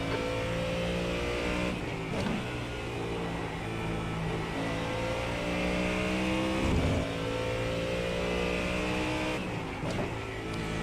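Ford Mustang GT3 race car in iRacing, engine droning loud and steady at high revs, with harmonic pitch sweeps as it shifts through gears and brief dips near the two-, seven- and ten-second marks.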